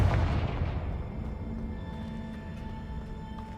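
A Confringo blasting spell explodes in a Harry Potter video game, a loud booming burst at the start that decays into a low rumbling tail with faint ringing tones.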